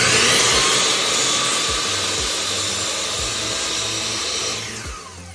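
A power tool whines loudly and steadily in a woodshop with no dust collection running, then winds down and fades near the end.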